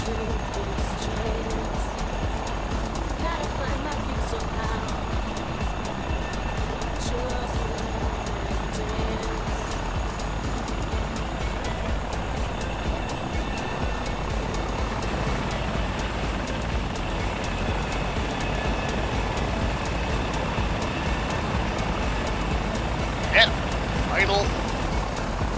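A simulated helicopter in the FlightGear flight simulator drones with a constant, loud engine and rotor roar that fills the whole stretch, with people talking over it.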